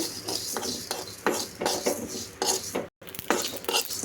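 Spices for vatha kuzhambu roasting in a pan, stirred with a metal spoon that scrapes and clinks against the pan in repeated close strokes over a faint sizzle, with one brief cut to silence.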